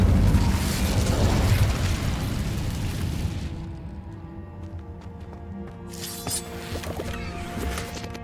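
Incendio fire spell cast in the Hogwarts Legacy video game: a loud, rushing burst of flame that roars for about three seconds, then drops away into a quieter ringing tail with a few small pops.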